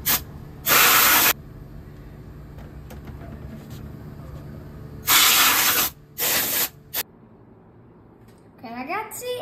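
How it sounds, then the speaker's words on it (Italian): Cleaning spray aimed at a PS5 console, heard as several loud, hissing bursts of varying length separated by quieter pauses, followed by a brief sliding squeak at the end. "adesso cerchiamo di pulirla grazie a questo spray"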